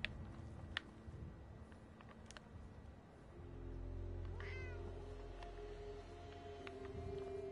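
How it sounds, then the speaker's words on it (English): A cat meows in a video game, its thin rising call faint beneath a steady low hum and scattered small clicks, with no talk over it. "If I can feed the cat, I will feed the cat."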